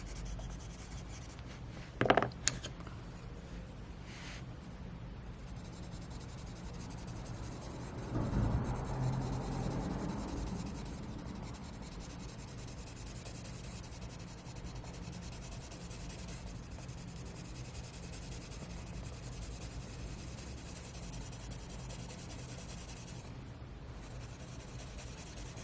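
A white gel pen scratches lightly across paper as highlights and sprinkles are added to a drawing, a faint, steady close-up scribbling with a few brief louder taps and strokes.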